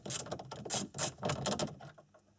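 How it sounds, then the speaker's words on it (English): Small screws being undone from the top edge of an open glove box in an Audi A4 B6/B7, heard as a close run of dense clicky mechanical ratcheting and scraping bursts, fairly loud, with no talking. "I've just removed the 2 outer screws from the top of the top edge of the open glove box here."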